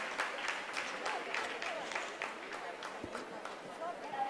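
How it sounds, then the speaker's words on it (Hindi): Scientists applaud in a mission control room during the Chandrayaan 3 lunar landing, a steady wash of clapping heard fairly faint and distant beneath a voice talking over it. "आप इस तालियों के गड़गड़ाहट को सुन सकते हैं जो कि सेकेंड हाइब्रिड फेज के कंप्लीट होने के बाद"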